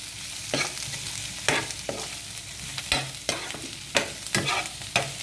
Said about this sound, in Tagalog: So, igisa natin.